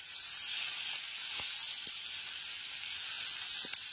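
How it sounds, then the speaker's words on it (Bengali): Chopped onion frying in oil with curry leaves, mustard seeds and dried red chili over a low gas flame, a steady close sizzling hiss with a few soft pops, no voices. "এইখানে কারি পাতা, সর্ষে আর শুকনো লঙ্কাটা হালকা করে ভেজে নেবার পর দিয়ে দেব 1 টেবিল চামচ কুচনো পেঁয়াজ।"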